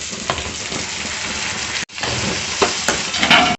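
Tomatoes added to onions, turmeric and curry leaves in hot oil fry with a loud, continuous close sizzle, briefly cut off once, then resuming with a few stirring clinks.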